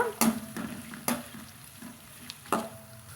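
Green chillies, beans and curry leaves stirred in hot oil for vegetable noodles, with a few sharp spoon scrapes against the pan over a light, steady sizzle.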